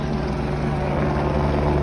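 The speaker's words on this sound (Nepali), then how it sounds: "ल लिन आइसक्यो हेलिकप्टर हाम्रो।" A helicopter arriving at a trekking spot in the North Annapurna Base Camp and Upper Mustang region of Nepal, heard as a steady, continuous rotor and engine drone with low throbbing hum, fairly loud and unbroken throughout.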